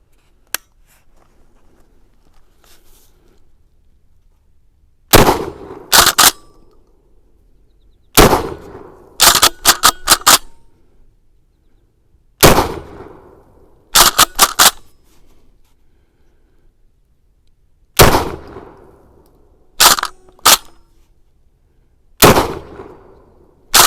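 A KelTec KSG 12-gauge pump shotgun firing double-aught buckshot fires loud, sharp blasts in quick clusters of two to four shots. The clusters are separated by short pauses and ring out over quiet outdoor air.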